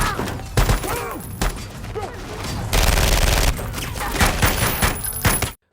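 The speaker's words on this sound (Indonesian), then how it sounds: "Mereka sangat waspada karena musuh terus melesatkan tembakan." Bursts of gunfire and loud impacts crackle through a busy, noisy scene, with a dense barrage around the middle and scattered shots before and after.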